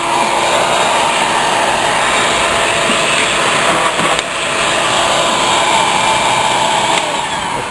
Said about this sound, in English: so I'm going to vacuum out some diesel